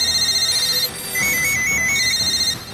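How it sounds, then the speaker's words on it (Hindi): Office telephones in the Prime Minister's office ring steadily with a continuous electronic tone that changes pitch partway through, loud and close, with no talk over it. "प्रधानमंत्री कार्यालय के फोन लगातार घनघना रहे हैं।"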